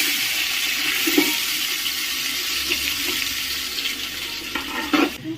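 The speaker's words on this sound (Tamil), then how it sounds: "டைம் எடுக்கும் வெங்காயம் வதங்குறதுக்கு" Onions sizzle steadily in hot oil in a pan for biryani, a loud, continuous close-up hiss and crackle with occasional stirring knocks and no voices.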